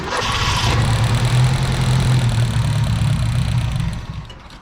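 A 1972 Ford Pinto engine with a 4-speed catches and settles into a loud, steady running rumble close by, dropping off near the end.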